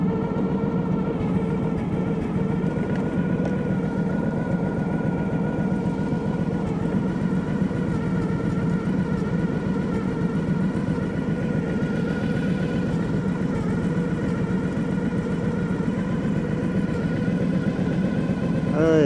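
An old machine's engine idles steadily up close, a constant mid-pitched rumble with an even mechanical beat that holds for the whole stretch.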